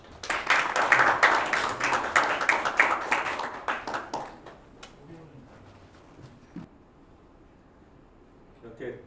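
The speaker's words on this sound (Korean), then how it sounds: "큰 박수로 환영해 주시기 바랍니다" An audience at a forum on semiconductor industry strategy welcomes a presenter with a burst of clapping that is dense at first, then thins out and fades to a few scattered claps, leaving quiet room tone.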